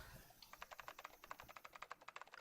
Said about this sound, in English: She typed more and more letters and symbols that meant nothing to Junpei, began to pour across the screen